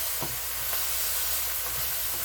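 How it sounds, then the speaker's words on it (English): Steady, close sizzling and crackling of turkey goulash frying in a pan, a continuous hiss with small pops throughout. "I hope y'all can hear me over the frying."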